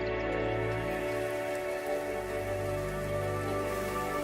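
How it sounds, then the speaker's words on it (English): Steady rain falls on dry, parched land as the long-awaited rains return, a dense continuous patter heard under a sustained tonal musical bed. "Within days, massive clouds gather, and the long-awaited rain returns."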